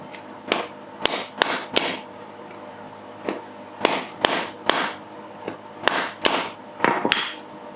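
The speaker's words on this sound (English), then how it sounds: "having a flat piece of steel in your channel, taking a mallet and hitting it" A mallet strikes a flat steel piece set in a window channel of a Triumph TR4, landing in irregular clusters of sharp, close metallic blows with short pauses between groups.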